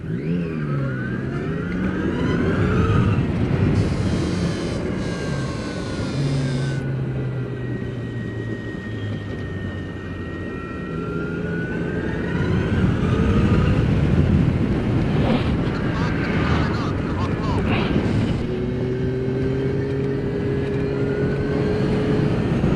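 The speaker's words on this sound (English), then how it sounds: "this is the Zero S electric bike" A tuned custom Zero S electric motorcycle rides along Mulholland Drive, its motor whine rising and falling in pitch steadily throughout, with wind rushing past the microphone and no talking.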